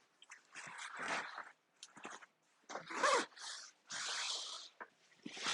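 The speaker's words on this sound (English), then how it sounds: "I'm able to zip this really easily." A packable daypack being zipped shut in several quick rasping bursts with short pauses between, close and fairly quiet.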